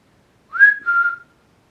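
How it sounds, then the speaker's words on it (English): A single person whistles once inside a quiet, empty town hall, a clear two-part tone, the first note rising and the second held slightly lower, close and alone in near silence. "If I whistle in here, can you whistle back?"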